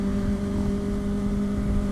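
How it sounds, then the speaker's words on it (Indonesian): A Kawasaki ZX25R motorcycle exhaust drones steadily while riding. The engine hums at a constant high pitch, loud and close, over continuous road and wind noise. "jadi nggak hanya mendengarkan suara knalpot aja"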